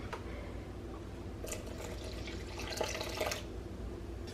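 Water is poured for a pumpkin sourdough recipe, a faint trickling stream with soft splashes that gets a little louder in the middle and then tapers off, with no talking.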